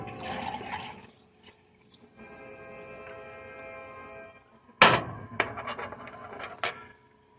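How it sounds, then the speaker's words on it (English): Hot sauce is poured from a pan into a measuring cup: a soft, steady liquid stream runs for a couple of seconds, followed by loud clanks and scrapes of the pan against the cup. "pour into the measuring cup"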